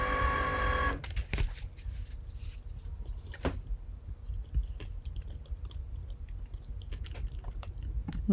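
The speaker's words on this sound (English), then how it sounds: "the Cricut is cutting" A Cricut cutting machine cutting vinyl, giving a steady low mechanical whir and motor hum with small clicks and shifts, close by and continuous with no talking.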